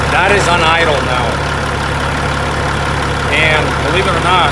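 A Caterpillar C15 diesel engine idles steadily with a deep, even low rumble throughout, while a person talks over it at the start and again near the end.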